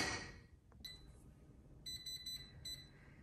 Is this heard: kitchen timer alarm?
yes